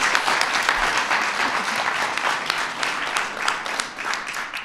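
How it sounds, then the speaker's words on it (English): Sustained applause from a student audience at a film workshop, dense steady clapping filling the room throughout without pause. "Let's give them a round of applause."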